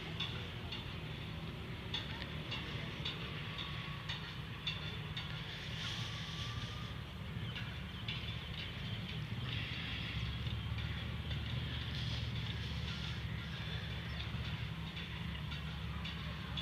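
A GMCU 15 diesel locomotive hauling a ballast train rumbles past for a long, steady stretch, with a low engine drone and rhythmic wheel clicking on the rails that stay fairly distant and even in level.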